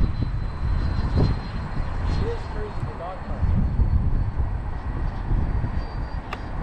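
A Freewing F-22 90mm electric ducted-fan RC jet approaches to land, its steady whooshing roar holding loud and continuous throughout, with a brief voice cutting in over it.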